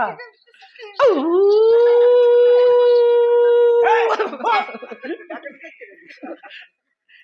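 A person imitates a dog's howl with one long, sustained, wavering note, then breaks into chuckles and talk.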